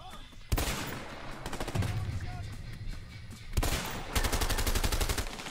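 Gunshots in the co-op prison-escape video game A Way Out during a jungle firefight, with sharp rapid bursts of automatic fire in several loud volleys, a distinct one near the start and heavier rattling toward the end, with talk underneath.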